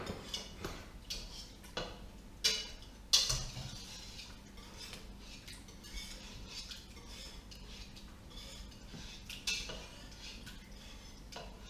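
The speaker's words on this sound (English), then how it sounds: "I'm still roughly mashing" Tomatoes being roughly mashed in a pot for tomato soup, with soft irregular clinks and taps of a utensil against the pot and a few sharper knocks, fairly quiet, no talking.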